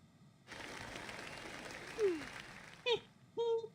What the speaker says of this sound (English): Now then, a big round of applause.